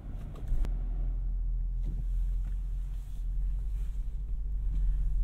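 A 2021 Range Rover Sport P525 with its V8 sits idling, a steady low engine rumble close by with faint background noise and no speech.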